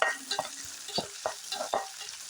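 Green chillies frying in hot oil in a pan, a steady sizzle broken by several scraping stirs of a spoon, close and alone.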